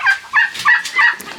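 Several turkeys gobble in loud, repeated bursts, roughly four rippling calls in quick succession, close by with no talk over them.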